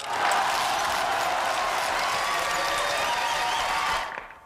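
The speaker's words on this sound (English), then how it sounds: "give me a round of applause" Crowd applause in a farming video game saloon scene, steady dense clapping sustained for about four seconds before cutting off abruptly.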